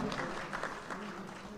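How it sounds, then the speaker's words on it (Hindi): Applause rolls through a crowd at a JJP youth conference rally in Jhajjar, Haryana, welcoming party leaders; a steady, dense wash of clapping with faint voices mixed in. "एक बार तालियों की गड़गड़ाहट से अपने नेताओं का यहां पर स्वागत करना चाहता हूं"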